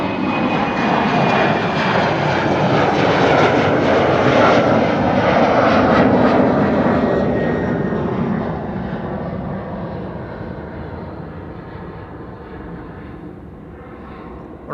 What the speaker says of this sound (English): This is KLM flight 915 to Aberdeen. An Embraer 190.